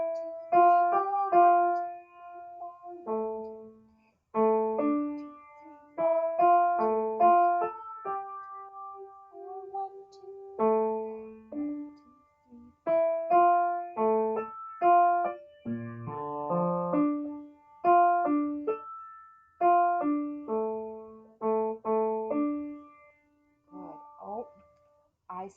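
A single-line piano melody played with the right hand only, note by note in short phrases with brief pauses between them, clear and close, without bass accompaniment.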